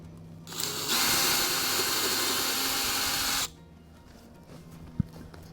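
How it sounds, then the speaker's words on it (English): A power drill whirs loudly at high speed for about three seconds, then stops, followed by quiet background and a brief click. "We're going to go ahead and drill this one."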